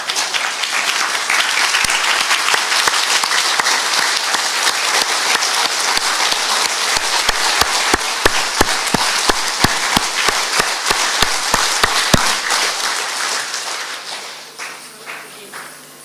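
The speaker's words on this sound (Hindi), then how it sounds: "थोड़ी तालियां बजाओ जरा अच्छी तरह" Applause from a seated group at a spiritual meditation class, a long dense stretch of clapping with sharp individual claps standing out before it thins and fades away near the end.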